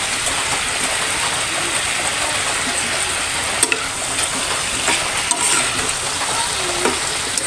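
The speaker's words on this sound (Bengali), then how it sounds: "ফ্রাই প্যানে মাছ ভাজি করছি" Fish fries in a frying pan alongside potato and eggplant, a loud, continuous dense sizzle with a few sharper pops and crackles breaking through, close up and steady throughout.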